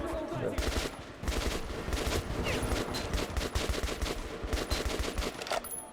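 Rapid bursts of gunfire in Metro Redux crackle continuously, with dense automatic shots layered over one another at close range.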